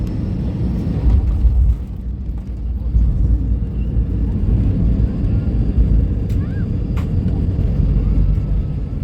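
Passenger airplane touching down and braking on the runway in Mallorca, heard from inside the cabin as a steady loud low rumble of engines and wheels throughout, with faint background noise.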